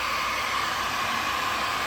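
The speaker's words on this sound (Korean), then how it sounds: "감고 드라이기로 비닐을 바짝 쪼그러뜨려줍니다" An industrial heat dryer blows hot air to shrink waterproof vinyl wrapped around an air conditioner refrigerant pipe, giving a steady, loud, close whooshing roar throughout.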